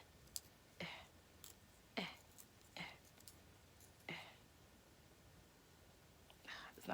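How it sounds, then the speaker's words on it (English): A pencil being sharpened by hand, several short scraping bursts at irregular intervals, close and quiet in an otherwise still room. "sorry, I'm like sharpening this pencil."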